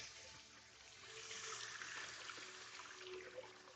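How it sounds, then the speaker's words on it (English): Running water splashes over hands being rinsed at a kitchen sink, a soft, steady trickle and spatter that stays faint and close with no talking. "Let me rinse my hands."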